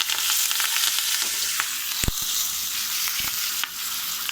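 Turmeric and curry leaves crackle and sizzle in hot oil for coconut chutney tempering, a steady close frying hiss broken by a few sharp pops and spatters.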